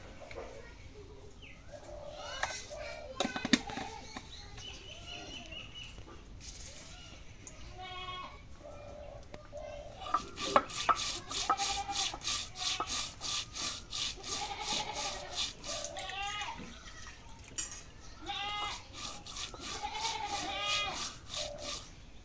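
Cumin being ground into paste on a stone, a rhythmic scraping rub that grows busier and louder in the second half, with faint background noises.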